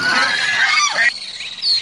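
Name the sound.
ducks calling in a cartoon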